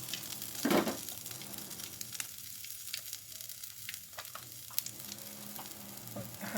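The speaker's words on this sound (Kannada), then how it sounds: "ಓಕೆ, ಘೀ ಆ್ಯಡ್ ಮಾಡ್ತಾಯಿದ್ದೀನಿ." Ghee sizzles in a pan for a Malai Paneer Kurma, a soft, steady crackling hiss at low level with a brief stir or clatter near the start and scattered pops throughout.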